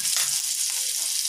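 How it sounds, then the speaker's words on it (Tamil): A tablespoon of butter melts in a tablespoon of hot oil in a frying pan while paneer masala is cooked, giving a steady, bright, close-up sizzle with no talking. "இப்போ வந்து 1 டேபிள் ஸ்பூன் வந்து வெண்ணெய்"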